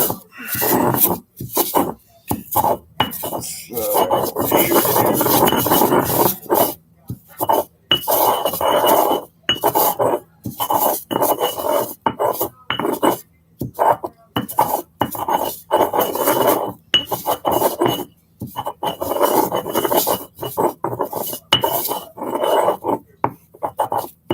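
Dry leaves being ground by hand, likely in a mortar, with repeated rasping, scraping strokes in short bursts and pauses, close up and fairly loud with no talking.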